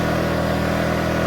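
A WEN 2350-watt portable inverter generator idling in eco mode, holding a steady, even, low engine hum throughout the short stretch with no talk.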